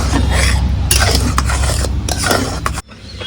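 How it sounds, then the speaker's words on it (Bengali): Five hundred grams of jaggery heating in water in a pot, with a spoon scraping and clanking against the metal in a steady, busy clatter that stays close and loud, then drops away sharply near the end. "গুড়টা এরকমভাবে আমি একটু জ্বালিয়ে নিচ্ছি"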